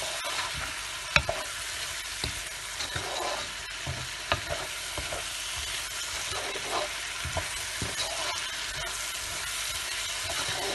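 Chopped zucchini cooks with masala in a pan, sizzling softly at a steady level while a utensil stirs and scrapes through it in scattered clicks, with no talking.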